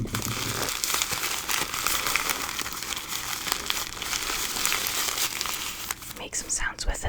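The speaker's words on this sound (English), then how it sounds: "the shoe tree in this is the regular tissue paper one" Tissue paper stuffed inside a sneaker crinkles and rustles continuously and close up, dense and papery, with soft whispering over it.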